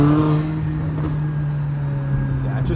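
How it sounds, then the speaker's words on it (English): A tuned Mercedes GLA 45 AMG four-cylinder pulling along with the window cracked open: a steady, loud intake and engine drone with a strong low hum that holds evenly throughout. "Hopefully you guys can hear some of the air intake noise here."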